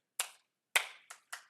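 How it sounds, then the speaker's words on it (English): Four sharp hand claps in a calculus lecture class, quiet and fairly close, the first two spaced apart and the last two quicker, with no talk over them. "That's a clap right there."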